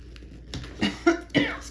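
A person coughs three or four times in quick succession during a craft session, close and clear, with no talking.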